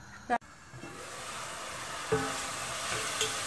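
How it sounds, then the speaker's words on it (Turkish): Leeks cooking in olive oil in a pot give a faint, steady sizzling hiss as they are stirred, with a sharp utensil knock at the start and a few soft scrapes. "Sonra karıştırıyorum."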